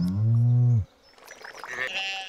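A sheep in the farming game Stardew Valley lets out one loud, wavering bleat lasting under a second, followed by soft clicks and chimes of game interface sounds.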